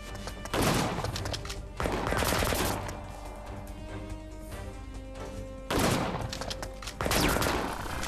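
Video game gunfire rings out in several bursts of rapid shots, some denser and more like automatic fire, with brief gaps between them, at moderate volume and fairly close.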